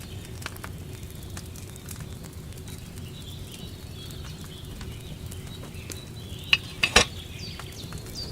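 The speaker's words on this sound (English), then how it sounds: "Hear that bubbling? It's boiling." A potion cauldron over a flame bubbles and boils in Kingdom Come Deliverance 2, giving a steady, dense simmering and sizzling texture with a few sharper pops near the end.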